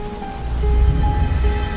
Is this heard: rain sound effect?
yes